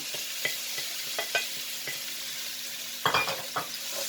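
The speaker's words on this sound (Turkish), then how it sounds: "Şimdi soğanlarım pembeleşene kadar bunu güzelce kavuracağız." Grated onion and garlic fry in oil in a pan with a steady, bright sizzle. Scattered stirring scrapes and taps sound through it.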